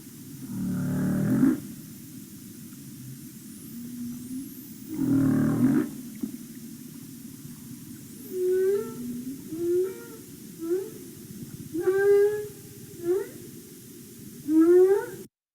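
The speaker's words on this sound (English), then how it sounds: "More belugas, social sounds" Beluga whale social sounds: low rumbling pulses give way to a series of rising whistles and squeaky chirps, played back as an underwater recording with no talking.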